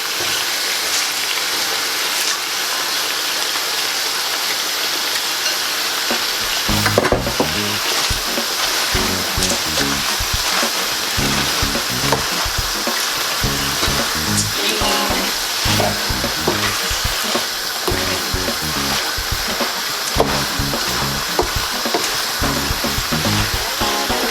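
Vegetables hit a hot pan with chicken and sizzle loudly for a quick stir-fry: a quiet steady hiss first, then a sudden burst of frying with constant crackle and scraping stirs that continue throughout, with no talking.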